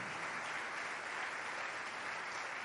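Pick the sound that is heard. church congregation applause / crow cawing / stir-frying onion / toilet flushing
church congregation applause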